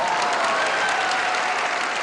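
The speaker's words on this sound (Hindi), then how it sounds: "और जिन लोगों ने तालियां बजाई हैं," Audience applause at a PMS New Era third anniversary stage show, a dense steady roar of clapping filling the whole stretch at even loudness with no voices.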